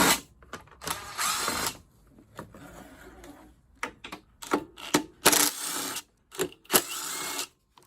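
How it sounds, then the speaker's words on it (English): Hand tools work on a Briggs and Stratton lawnmower carburetor during disassembly, an irregular series of close mechanical clicks, rattles and short whirring bursts with pauses between them. "I'm gonna pull the carb apart and check out what's going on"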